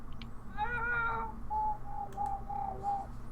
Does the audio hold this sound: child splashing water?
no